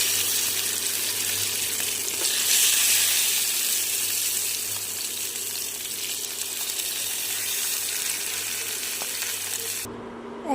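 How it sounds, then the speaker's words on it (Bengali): Pabda fish frying in hot mustard oil, a steady broad hiss and sizzle that holds evenly throughout, close and fairly loud, with no talking over it. "এবারে মাছগুলোকে ভেজে নেব"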